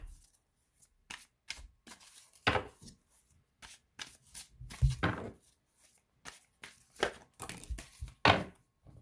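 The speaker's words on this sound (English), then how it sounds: "See if we can get either one or two more cards from this deck." A deck of tarot cards being shuffled by hand, soft repeated riffles and taps in irregular bursts, close and fairly quiet with no talking.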